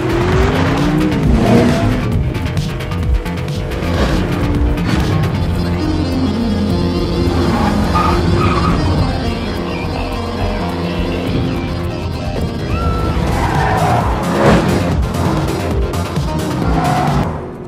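A film car chase plays out with loud racing engines and repeated tire squeals and skids, cars roaring past in bursts and swells over a continuous engine drone.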